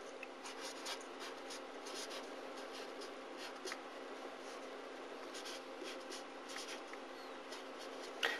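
A pen scratches across paper while a multiplication is worked out by hand, soft steady strokes in short bursts, quiet and close with no talk.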